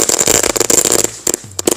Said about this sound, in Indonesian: Sudah berhasil menyala mercon magic ball